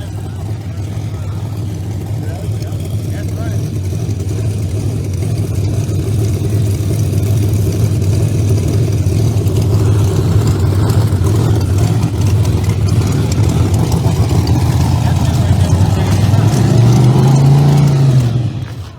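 A supercharged Chevrolet-bodied drag racing car at Empire Dragway holds a loud, close, continuous engine drone that swells in pitch near the end before cutting off.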